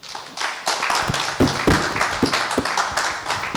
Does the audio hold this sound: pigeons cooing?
no